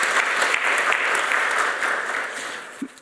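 Audience at an academic conference on Polish rural development claps warmly for an introduced guest, a steady, fairly close wash of applause that tapers slightly near the end.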